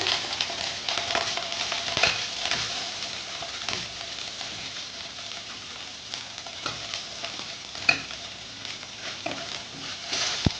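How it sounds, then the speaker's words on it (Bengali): Onions fry in a pan for a spinach curry, a soft, steady sizzle with light crackles and faint stirring scrapes. "পেঁয়াজটাকে লাল করে দু তিন মিনিট ভেজে নেবো"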